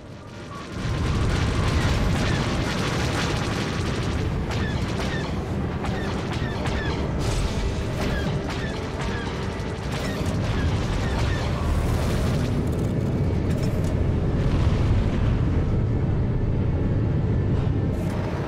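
Missile explosions rumble nonstop through a Star Wars: The Old Republic space dogfight in a shipyard arena: dense, loud booms and bursts pile onto a roaring wash with scattered sharp pops, and no voices come through.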